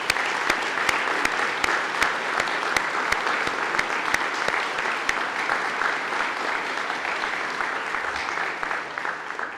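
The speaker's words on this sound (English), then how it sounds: "So please join me and give a round of applause." An audience at a Veterans Day event applauds Vietnam veterans, with steady, sustained clapping from a crowd filling the room for nearly ten seconds before fading slightly.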